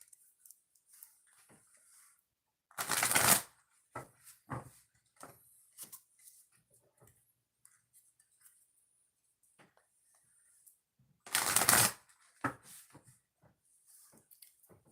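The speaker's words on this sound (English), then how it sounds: "I got to shuffle the cards before we get started with your reading" Tarot or oracle cards being shuffled by hand, with two loud, dense riffling bursts about eight seconds apart and soft taps and card handling in between, close up with no talking.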